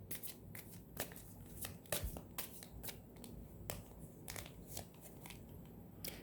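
Playing cards are shuffled and riffled close up in a quiet room, giving crisp, irregular flutters and snaps over soft ambient hiss, with no talking.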